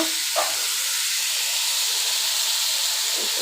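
Mustard oil sizzling in a pan while hilsa fish fries, a loud, steady hiss that runs the whole way with no pauses and one brief spatter near the start.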